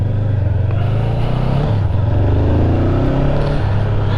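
A 2022 Honda CB500F twin-cylinder motorcycle engine drones loud and steady while riding, with a throbbing low exhaust note and wind rush that hold throughout.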